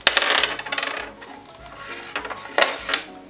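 Dice clatter and rattle in a board game of Meiern, with a dense burst of clicks at the start and two sharper knocks near the end, close and fairly loud.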